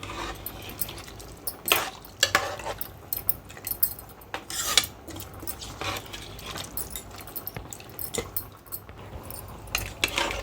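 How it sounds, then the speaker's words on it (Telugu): Metal spoon scraping and clinking against a pressure cooker in irregular strokes, close by, with soft stirring sounds between the sharper scrapes, while country chicken curry with added water is stirred. "వాటర్ పోసి ఒకసారి ఇలా కలుపుకున్నాను"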